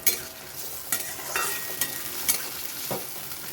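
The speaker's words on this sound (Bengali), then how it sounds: "তেলের ওপরে পেঁয়াজ দিয়ে দিয়েছি।" Chopped onions frying in hot oil for a Bengali koi fish tel jhal, a steady sizzling hiss broken by a few sharp scraping clicks of stirring, close and moderately loud with no talk.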